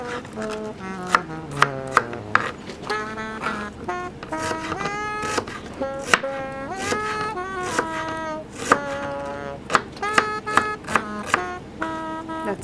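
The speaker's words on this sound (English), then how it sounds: "we quickly slice one onion" A knife slices an onion for pepper soup, sharp rhythmic strikes on a board repeating quickly throughout, with tonal background music running underneath.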